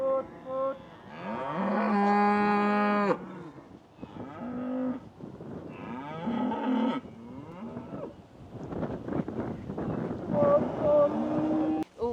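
Cattle with rough winter coats moo repeatedly while being moved on a farm, long drawn-out calls rising and falling in several bursts, near and loud, with wind buffeting the microphone in between.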